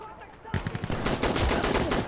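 Gunfire in the video game Insurgency Sandstorm: after a brief quiet moment, loud rapid bursts of close automatic fire rattle on continuously to the end.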